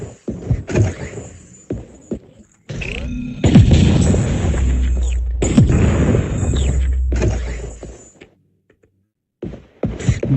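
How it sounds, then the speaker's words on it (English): Deep booming blasts from the video game Sweet Surrender, a couple of heavy low rumbling bursts that swell loud in the middle and fade, with short sharp hits around them and a brief silence near the end. "I wonder what caused that explosion."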